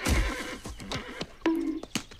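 A horse neighs loudly in a scene from the 1998 animated film Mulan, with a drawn-out whinny and snorts over film score and background effects.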